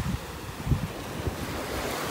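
Surf breaking along a shell-strewn ridge line on a beach in North Naples, Florida, a low rolling wash with a few soft surges and steady wind noise across the microphone, no voices.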